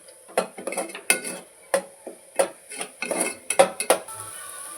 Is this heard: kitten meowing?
no